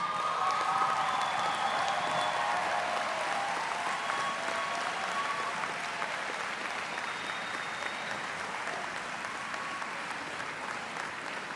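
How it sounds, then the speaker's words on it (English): A large audience applauds at a university commencement ceremony, sustained crowd clapping heard from a distance in a big hall, steady and even throughout with faint cheering mixed in. "Stand up and give those a round of applause."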